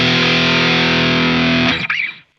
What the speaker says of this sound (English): You can get everything from really searing, harsh tones like this